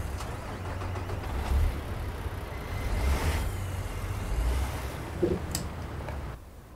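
A truck passes in American Truck Simulator with a broad rumbling road noise that swells and fades, a brief hiss near the end, and then a drop to quieter background.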